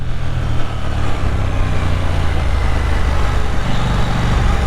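A 2023 KTM Duke 890 motorcycle with an aftermarket exhaust rumbles steadily and loudly up close, a continuous deep engine drone with no speech over it.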